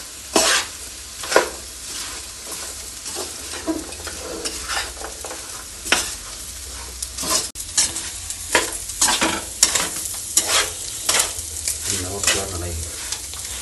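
Fish pieces for a Kerala-style fish pickle sizzle in a frying pan while a spoon stirs and turns them, with repeated scraping clinks against the pan over a steady close frying hiss.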